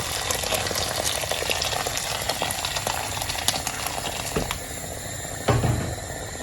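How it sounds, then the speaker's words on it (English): Boiling water pours steadily from a kettle with a continuous bubbling, splashing rush, followed by a brief clink near the end. "Add some boiling water from the kettle."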